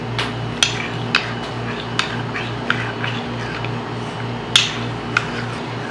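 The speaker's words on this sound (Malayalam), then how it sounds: "മുഴുവനൊഴിച്ചു നമുക്ക് നന്നായിട്ടൊന്ന് മിക്സ് ചെയ്തെടുക്കാം." Custard powder being mixed into poured milk in a bowl, with sharp clinks of a utensil against the bowl at irregular intervals over a steady background hum.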